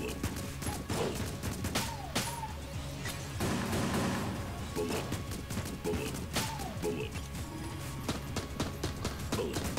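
Rapid gunfire from a letter-shooting weapon in the game Enter the Gungeon: a fast, uneven stream of sharp, crackling shots with chirpy tonal blips, running continuously with brief denser bursts and no talk.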